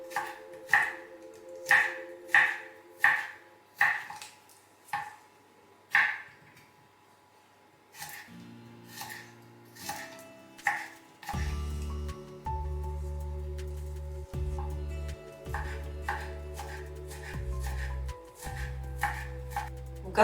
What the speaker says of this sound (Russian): Чеснок нарезаю очень мелко.